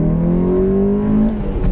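A 1990s car with 111 bhp and a cone air filter accelerates hard up a mountain road, its engine note and intake drone climbing steadily in pitch. The sound is loud and close and plays alone.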